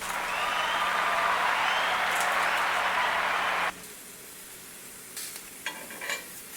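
Tomatoes, a quarter onion, serrano peppers and garlic roasting in a hot pan, giving a loud, steady hiss and sizzle that abruptly drops to a quieter crackle with a few scattered taps and clatters.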